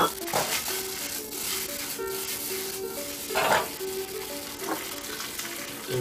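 Diced onions and carrots sizzle and crackle in a hot pan while being stir-fried for cumin chicken, a steady frying hiss with occasional scraping stirs throughout.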